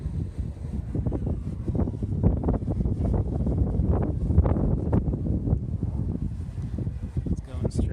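Wind buffets a microphone outdoors during a DJI Mini 2 drone flight in high wind, a steady rumbling roar that gusts throughout with no pause.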